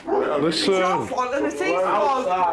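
A dog barks and yips repeatedly in a home during a domestic conflict with police present. The barks are mixed in with loud, agitated voices talking over them.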